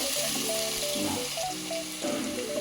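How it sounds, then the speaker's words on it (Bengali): Sliced onions frying in hot oil for pulao beresta give a steady, fairly quiet sizzle throughout, with a tonal background like music running underneath. "পোলাওয়ের বেরেস্তা করব, এই জন্য ভেজে দেবো এখন বেরেস্তাটা সুন্দরভাবে"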